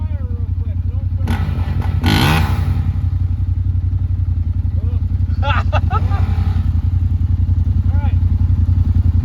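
A Honda 450R dirt bike engine idles in a steady, rapid thumping pulse close by, with a short clattering burst and brief speech over it.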